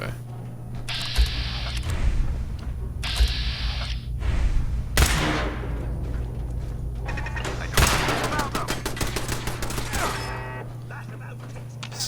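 Turret gunfire in Fallout 4 comes in several loud, rapid bursts of shots with mechanical clanks between them, over a steady low hum, as a voice talks at times.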